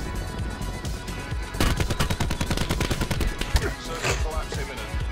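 Rapid video game gunfire crackles in dense automatic bursts, loud and close, with overlapping shots forming a sustained barrage that intensifies midway.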